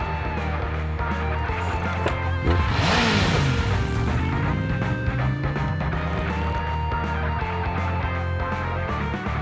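Several vehicles in the Zenless Zone Zero game rev up and pull away together, a loud, dense engine roar with rising pitch sweeps and a whoosh, mixed with game music and effects throughout.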